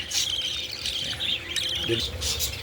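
Parakeets at a breeder's aviary chirp and tweet continuously in a busy, overlapping chorus, loud and close, with no one speaking.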